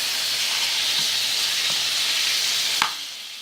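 Chorizo and onions sizzle in oil in a pan, a loud steady frying hiss throughout with a few faint clinks, and no talking.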